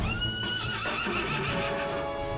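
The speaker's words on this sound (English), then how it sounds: "These fiery horses. With very realistic horse making sounds." A fiery horse in the video game Dragon Quest XI S whinnies with a long, wavering call, loud and close, over a steady low rumble.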